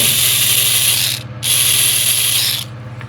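A small hand drill bit spins in a hobby model-kit drill, giving a close, steady ratcheting whir that stops briefly and then resumes before fading out.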